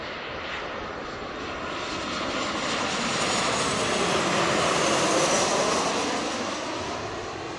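Jet airliner engines at Seattle airport, a broad roar that swells as an aircraft passes and then eases slightly, heard from a distance without talk.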